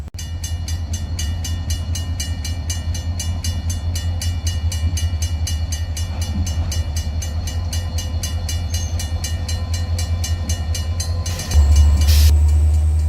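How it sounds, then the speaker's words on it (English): Norfolk Southern locomotive 3099 backs up while switching on the Lehigh Line, its diesel engine droning low and steady with a run of regular high-pitched ringing tones, then growing louder near the end. "As 3099 backs up to continue switching"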